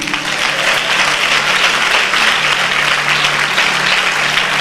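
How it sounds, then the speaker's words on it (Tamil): A church congregation at a Tamil Christian sermon claps loudly and steadily, a dense, sustained round of applause filling the whole stretch without letup. "தமிழ் புரிஞ்சுன்னா ஜோர ஒரு கைத்தட்டு கொடுங்க"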